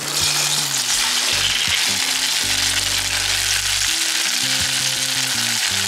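Cabbage and boiled udon noodles frying on a hot griddle with oil and pork cracklings, a loud continuous sizzle close up, broken by scraping and tossing sounds from a spatula.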